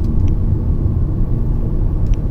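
A Skoda Kushaq 1.0 petrol automatic SUV downshifting in manual mode, heard from inside as a steady low engine and road rumble, loud and even with no distinct rev change.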